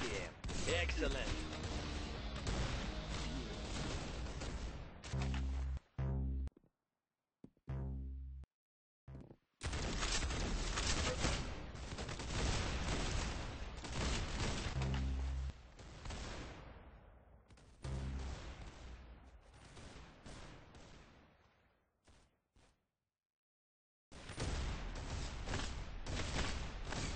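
Rapid bursts of game gunfire from Arsenal, loud and dense with automatic fire and booming impacts, broken by a few short silent gaps and fading toward the end.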